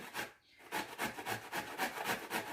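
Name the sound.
grating zucchini on a grater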